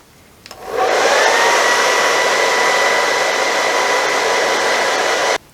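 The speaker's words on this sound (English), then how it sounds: "I've done a rough blow dry over my whole head" A hand-held hair dryer switches on after a brief click and blows steadily and loudly close by, drying a full head of hair, with a constant rushing whoosh and no voices.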